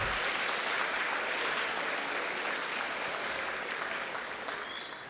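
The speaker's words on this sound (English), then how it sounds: "Round of applause for a special guest coming today." An audience at a high school Women's History Month celebration claps steadily for a special guest, a dense, even wash of applause that fades gently toward the end.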